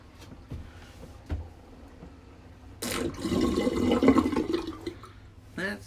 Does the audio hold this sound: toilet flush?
yes